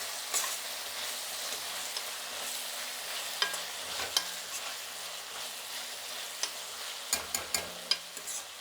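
Bitter gourd pieces and tomatoes fry in hot oil in a pan, producing a constant moderate sizzle with occasional sharper crackles and a few utensil taps toward the end.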